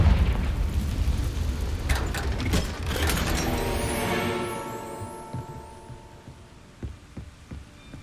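A Confringo fire spell bursts in Hogwarts Legacy, a loud booming blast at the start that rolls into a crackling, rumbling tail and fades over several seconds, with a few faint thuds afterward.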